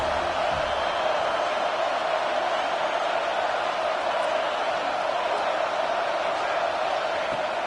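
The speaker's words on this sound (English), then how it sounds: "This crowd even louder now on 2nd down as they try to hold on." A football stadium crowd keeps up a steady, dense roar on a defensive down, loud and continuous throughout with no break in the wash of noise.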